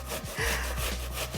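Onion rubbed back and forth across a kitchen grater, quick rasping strokes in a steady rhythm, close and fairly loud with no talking.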